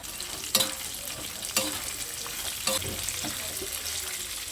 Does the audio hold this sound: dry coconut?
yes